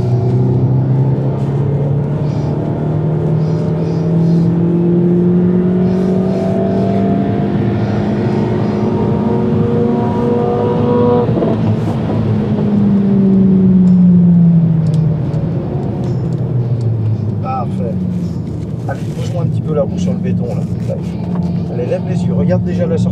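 A car accelerates at full throttle on the Haute Saintonge race circuit during driver coaching, its engine note rising steadily and loud throughout, with a falling sweep midway, while a coach talks over it.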